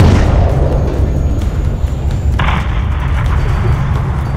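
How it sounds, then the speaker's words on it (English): A missile strike levels a hangar in Modern Warfare III, heard as a loud, sustained rumbling boom with a deep low roar that carries on after a sharper burst midway. "Graves, once ground is clear, have your man drop a missile on that hangar."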